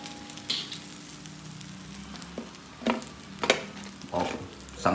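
Pieces of cream dory fish fry in oil with a quiet, ongoing sizzle, broken by several sharp clinks and scrapes of a utensil stirring and moving the fish, with no voices.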